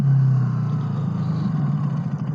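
Car engine revving under engine braking while downshifting, a loud close hum that eases slightly in pitch after the first half-second and holds steady to the end, no talk.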